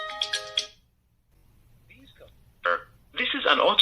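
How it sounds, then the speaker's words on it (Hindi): Incoming-call ringtone on a mobile phone, a short tonal melody loud at the start, followed by a brief pause and then speech-like audio. "आप देख सकते हैं मेरे मोबाइल पर फ़ोन आ गया"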